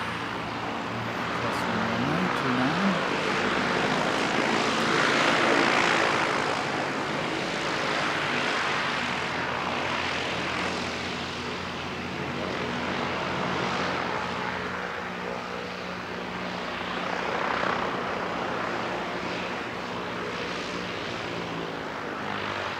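Emirates Airbus A380 engines roaring through a go-around, a loud sustained jet rumble that swells, eases and surges again as the airliner climbs away, heard from the ground without voices.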